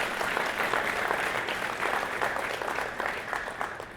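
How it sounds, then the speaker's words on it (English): Steady applause from an audience at a comedy roast, dense clapping filling the room at a constant level for several seconds with no voices over it. "One more round of applause for the duo."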